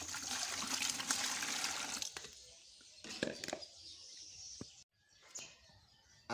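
Water measured out by the cup and poured into a barrel while making homemade laundry bar soap in Ghana: steady splashing pours, separated by short pauses and a brief silent gap.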